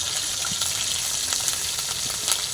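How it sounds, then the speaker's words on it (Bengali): Rohu fish roe frying in a pan gives a close, steady hissing sizzle with small crackling pops throughout, and no talking. "মাছটা ডিম হয়েছিল, ডিম দিয়েছে অনুষ্ঠার জন্য ভেজে রাখি"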